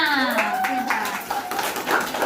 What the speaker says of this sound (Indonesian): Bagus, tepuk tangannya